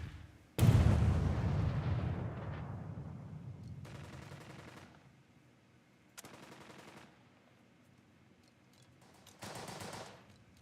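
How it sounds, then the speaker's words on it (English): A heavy mortar blast in a World War II squad tactics game booms loudly and rumbles away, followed by several fainter, shorter bursts of distant fire spaced a few seconds apart. "Might as well mortar the crap out of them."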